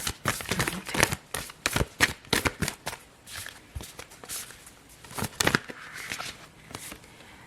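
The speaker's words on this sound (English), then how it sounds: "I love the sound of these cards shuffled" Tarot cards riffle and slap together in quick, irregular bursts close by, a crisp papery shuffling with short pauses between runs.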